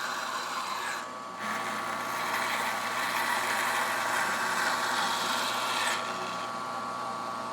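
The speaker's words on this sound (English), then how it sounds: "just cut it off on the bandsaw" A bandsaw runs with a steady broadband whine as its blade cuts through a piece of wood, sustained and fairly close, with a brief dip near the start before the cut resumes until the end.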